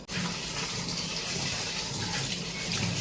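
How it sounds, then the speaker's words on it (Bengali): Tap water pours in a steady, close rushing stream while a cucumber is washed, a continuous full splashing hiss with no pauses. "মামুনি শশা ধুইতাছে"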